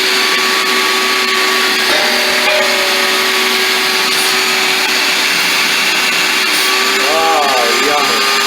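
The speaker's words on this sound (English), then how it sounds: "So we're going to remedy that with this shop vac" A shop vac runs loud and steady, sucking water out of the tub of a Speed Queen commercial washer during a drain pump replacement, with gurgling shifts near the end and brief talk over the drone.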